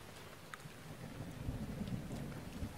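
Steady rain falls with low rumbling thunder during a thunderstorm in Zelda: Breath of the Wild, a continuous wash of rainfall with a deeper roll of thunder swelling midway and no voices.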